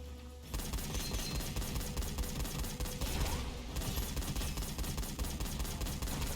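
A shotgun in the shooter game Gunfire Reborn fires in rapid, loud, closely spaced blasts that run almost continuously after a brief quiet start, with no voices.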